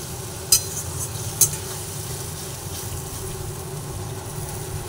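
Water poured into a pan of spiced fish and potatoes frying in oil sets off a steady, close sizzle, broken by two short sharp clinks near the start.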